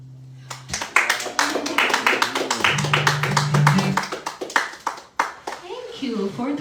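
An audience claps at a birthday concert after a lullaby is sung; a burst of close, uneven hand claps starts after a held note, thins toward the end, and a voice comes in as it fades.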